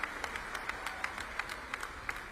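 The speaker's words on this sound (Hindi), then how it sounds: "उनका भी तालियां बजा के स्वागत कीजिए" Applause at a government policy launch event in Bhopal welcoming an Olympian boxer: soft, distant crowd clapping with sharper individual claps popping out at an even rhythm, fairly faint throughout.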